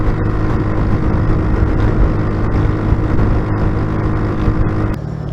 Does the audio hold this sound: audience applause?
no